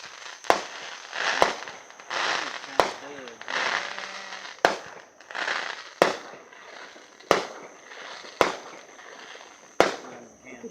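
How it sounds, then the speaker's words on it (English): Bottle rockets and fireworks bang in a series of sharp, loud reports roughly every second or two, with crackling and whistling between them and people talking in the background. "Yeah, a whole bunch of bottle rockets in there somewhere."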